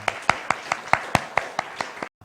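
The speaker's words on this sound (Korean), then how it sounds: "우리 이렇게 박수하겠습니다." A church congregation claps together during a Sunday service, about ten sharp, evenly spaced claps in a steady rhythm, then a sudden stop into near silence.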